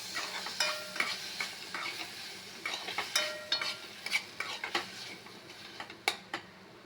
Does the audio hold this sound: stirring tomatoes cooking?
yes